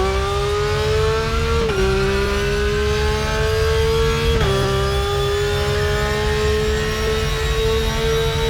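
A race car in Raceroom Racing Experience accelerates out of a corner at the Red Bull Ring, its engine a loud, steady, rising whine broken by two quick upshifts.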